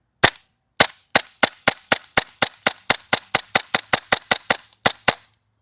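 Novritsch SSQ4 airsoft pistol running on gas, firing about nineteen sharp, loud cracking shots in a quick, fairly regular rhythm, close up, with no talking.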